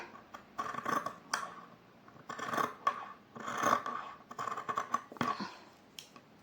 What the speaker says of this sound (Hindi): मैंने अस्तर और मेन फैब्रिक दोनों पर इसको काट लिया है।